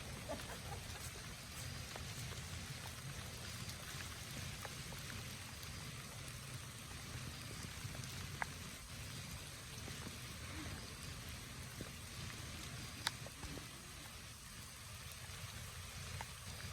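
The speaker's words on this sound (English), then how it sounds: "This is the first rainstorm I've sat in since East Grand Forks, Minnesota." Steady rain falls throughout a rainstorm, a dense continuous patter with a few sharper drips standing out, heard alone without talk.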